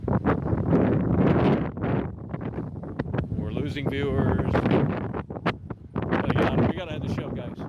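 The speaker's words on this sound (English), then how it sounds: "It's too windy." Strong outdoor wind buffets a microphone with loud, continuous rumbling gusts, while someone talks throughout, his voice partly drowned by the roar.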